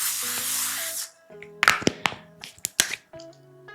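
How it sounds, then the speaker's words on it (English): A spray can gives a short hissing burst, close and fairly loud, followed by a few sharp taps and clicks of the can being handled, with soft music running underneath. "So we gotta just do a little spray just for funsies."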